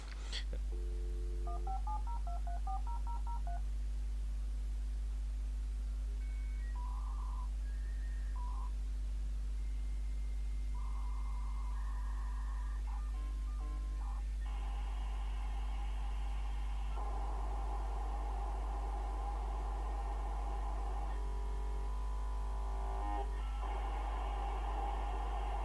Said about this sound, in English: That was the noise when you connect the internet it used to make.